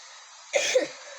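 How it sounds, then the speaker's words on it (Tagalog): A single rough cough bursts out mid-clip, close and fairly loud, with a brief throaty tail and quiet room hum around it. "Pagpasensya nyo na kung ako'y inuubo."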